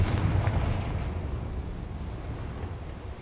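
A Confringo blasting spell in Hogwarts Legacy bursts with a heavy, booming explosion at the start, then rumbles and fades into a long noisy decay.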